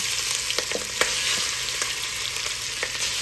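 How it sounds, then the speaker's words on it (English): Leftover prime rib searing in hot oil, a continuous loud sizzle with scattered crackles and pops from stirring, no voices. "I want to saute this meat off, y'all, and get a good sear on it"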